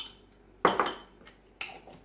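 Mayonnaise spooned into a glass mason jar, a couple of clinks and scrapes of utensil against glass, close and fairly quiet.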